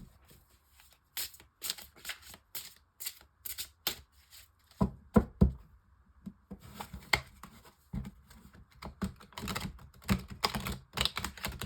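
Tarot cards shuffled by hand for a five-card spread, giving repeated quick clusters of crisp riffling and tapping, close and fairly soft, with brief pauses between bursts.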